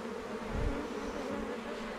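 Honey bees flying around a hive, a steady, faint buzzing drone that fills the whole stretch evenly with no talk over it.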